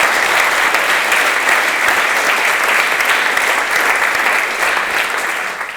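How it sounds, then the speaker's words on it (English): A conference crowd at a CSS talk gives loud, sustained applause to two helpers who carried in the chairs, a thick, uniform roar of many hands clapping that tapers slightly at the very end. "please join me in giving a big hand and a round of applause to Josh and Mark for carrying all the chairs in here."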